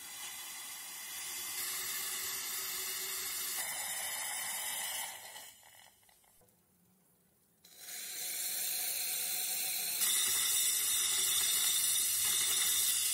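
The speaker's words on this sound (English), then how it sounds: "A gush of water and saturated steam is released," Water and saturated steam gush hissing from the vacuum release valve of an autoclave, a steady broad rush that briefly drops away to near quiet before surging back strongly.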